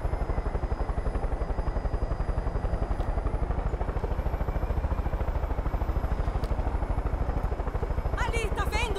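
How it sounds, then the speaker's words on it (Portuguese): Steady rapid thumping of helicopter rotors in the video game Far Cry 5, loud and continuous, with a brief burst of other noise near the end. "Ó, helicópteros ali, ó."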